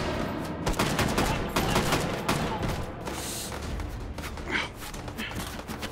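Rapid gunfire and bursts crackle almost without pause in the VR shooter Hot Dogs, Horseshoes & Hand Grenades, played on an HTC Vive on a tower custom map, with a possible grenade blast among the dense, loud shots.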